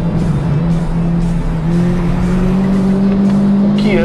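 Renault sports car driven hard with high grip, heard from inside: a loud steady engine drone with rising pitch, road and wind roar, and a brief tire squeal near the end.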